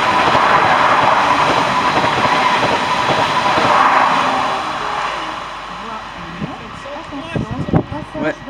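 A Regiolis regional train passes through Saint-Denis station in France with a loud, steady rushing roar and rail rumble that gradually fades, ending in scattered clacks and knocks as the train moves away.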